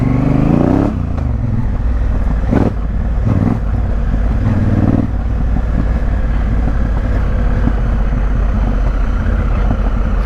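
A Honda Africa Twin motorcycle rides off road, its engine note steady and loud up close, with gear changes and heavy wind buffeting the microphone throughout.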